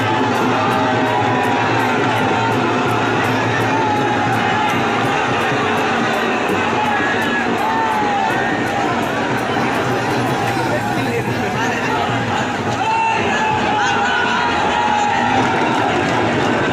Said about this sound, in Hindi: तो इस तरीके से अब भीड़ सारी इकट्ठी हो रही है